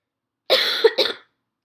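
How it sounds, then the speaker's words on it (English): A single person gives a short double cough, two close harsh bursts, loud and near in otherwise quiet surroundings. "There you go. My cough."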